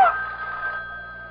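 An old-style telephone bell rings once in a radio drama, a bright, loud metallic ring that quickly fades into a lingering tone.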